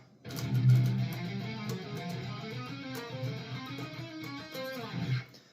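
A distorted electric guitar plays a fast picked riff from a song, quick, distinct notes, loud and up front, with a couple of heavier accents near the start and end.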